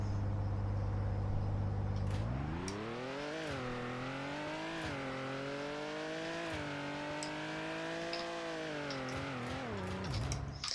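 A car engine in the Roblox game Car Dealership Tycoon starts with a low idle, then revs up with rising and falling harmonic tones that hold for several seconds before dropping back, loud and alone with no talking.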